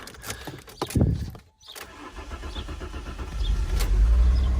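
A Fiat Coupe engine cranks with a short starter whir, catches after a brief pause, and settles into a loud, steady rumbling idle close by.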